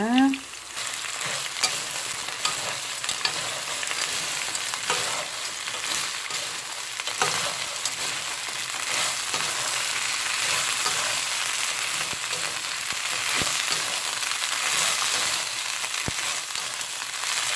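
Small shore crabs stir-fried with garlic in a hot pan for a spicy Korean crab dish, a loud steady sizzle and crackle running throughout with occasional scraping stirs.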